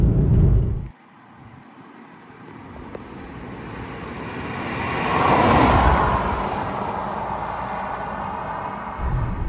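A Ford Mondeo ST220 with a 3.0-litre V6 drives along a road through corners, its engine and tyre noise building gradually to a broad rushing swell, then easing off.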